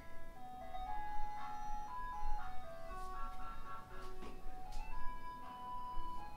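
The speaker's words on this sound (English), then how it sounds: "there's legit a ice cream truck out front" Ice cream truck parked out front of a house, its tinkling melodic jingle playing continuously at moderate distance, heard faintly through walls with low background rumble.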